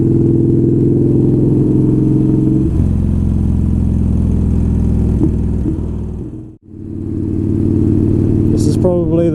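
A motorcycle is ridden at the speed limit, its engine held low and steady. A loud, continuous mid-pitched drone runs throughout, dips sharply and briefly near the end, then returns.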